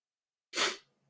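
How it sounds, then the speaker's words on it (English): A single sharp human sneeze bursts out close and loud after a second of silence, then fades quickly with a faint breath trailing behind. "I needed to sneeze"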